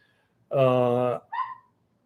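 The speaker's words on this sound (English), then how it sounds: "The Berry's poodle is making my dogs bark" Dogs bark indoors, set off by a poodle: one drawn-out, strongly voiced bark followed after a short gap by a brief higher yelp. Both are close and fairly loud, with no other sound.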